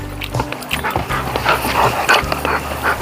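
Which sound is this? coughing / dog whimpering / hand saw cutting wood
dog whimpering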